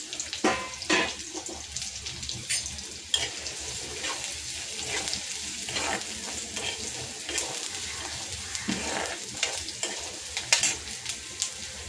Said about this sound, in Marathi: कांदा, कढीपत्ता आणि लसूण सोडून देऊया. 2 ते 3 मिनिटं आपल्याला कांद्याला भाजून घ्यायचं आहे.